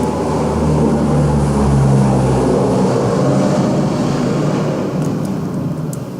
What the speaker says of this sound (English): A plane flew by our house.